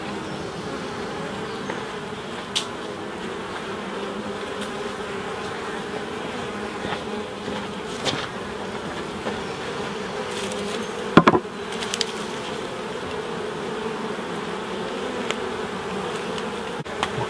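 A dense, steady hum of many honey bees buzzing close by at an open hive, with occasional faint knocks and taps breaking through the drone.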